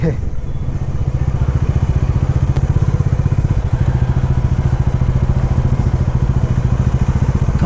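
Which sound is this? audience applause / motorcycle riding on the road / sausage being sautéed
motorcycle riding on the road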